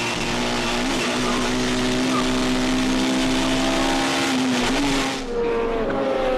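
Onboard a BMW touring car in the 2006 WTCC race at Magny-Cours, pulling out of the hairpin: a loud, steady engine drone climbs through the gears with a shift near the end, continuous and close.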